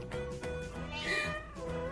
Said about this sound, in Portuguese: É do gato!